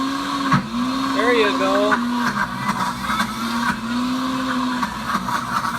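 A Pampered Chef Deluxe Cooking Blender grinds almonds into nut butter, a loud steady motor whine with a shifting pitch as the load changes, while a person talks briefly over it.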